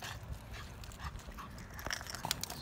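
A dog panting at Kroll Dog Park in Bakersfield, California: steady, breathy, rapid panting up close, with small scuffling noises and no talking.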